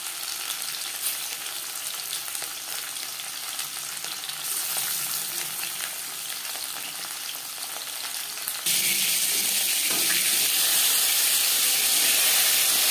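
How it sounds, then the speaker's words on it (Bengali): Tuna fish sizzles and spits in hot mustard oil, a steady frying hiss that grows louder and brighter partway through, with no talking. "4 চামচ সরষের তেল গরম করে নেওয়ার পর দিয়ে দিলাম ম্যারিনেট করে রাখা মাছ"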